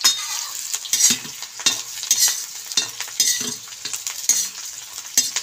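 Onions frying in hot oil with cumin in a pan while cooking an arbi dish: a steady close sizzling hiss broken by repeated scraping stirs, with no talk.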